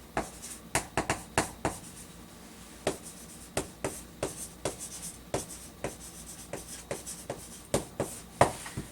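Handwriting with a pen on paper during an English grammar lesson, a close, quiet series of brisk strokes and taps in irregular bursts, alone without talk.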